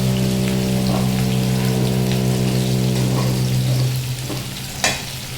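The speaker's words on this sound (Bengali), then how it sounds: "এই সবজিটাকে আমি বেশ ভালোভাবে লাল লাল করে ভেজে নেব।" Mixed vegetables frying in a pan for bhuna khichuri with moong dal and rice, a dense continuous sizzle with faint stirring scrapes and a low steady hum, close, ending with a brief sharp clink.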